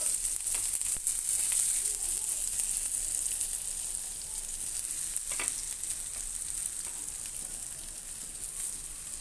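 Brinjal (eggplant) slices fry in oil in a pan with a steady, close sizzle that holds a bright, even hiss throughout and fades slightly toward the end; no voices.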